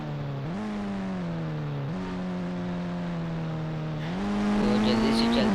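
A car speeding along in a video game without the accelerator pressed: a loud, continuous engine drone whose pitch climbs in small steps and jumps, up close and steady, with no talking.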